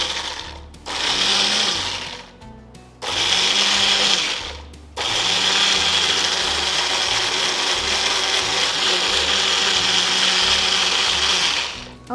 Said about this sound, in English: I'm going to go ahead and blend it.